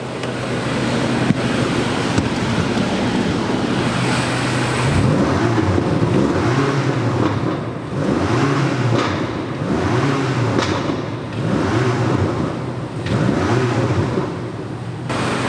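Engine and exhaust of a 2024 BMW XM Label with 738 horsepower, blipped in a series of repeated revs with a rising and falling pitch, a steady idle underneath and wind noise outside.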